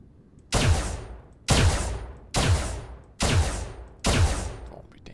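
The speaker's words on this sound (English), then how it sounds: "Fire the pulses at it." A blaster cannon in a Minecraft space server fires five loud, evenly spaced pulses about a second apart, each a sharp booming blast that fades quickly, with no voices.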